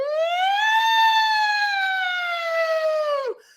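A voice imitates a siren with a sustained, slightly wavering wail that rises then gradually falls over about three seconds before dropping off abruptly, loud and close with no other talk.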